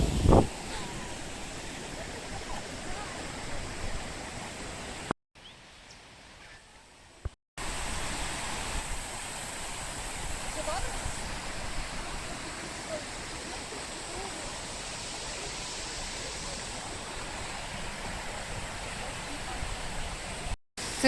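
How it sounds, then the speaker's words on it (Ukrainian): A waterfall in the Glencar valley, Sligo, Ireland, roars as a steady broadband rush of falling water, near and continuous, briefly dropping out for a couple of seconds before resuming; someone speaks over it. "перший водоспад, який я побачила в Ірландії"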